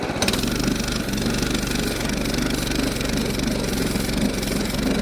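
Small single-cylinder engine of a Baja BT200X mini bike, rigged for ice fishing, pulls steadily through about a foot of snow, a loud, close, continuous throbbing drone with no break and no talk.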